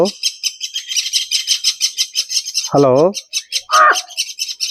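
Rapid, repeated myna bird squawks and chirps fill the clip in a steady pulsing rhythm, with a person's voice speaking briefly twice over them.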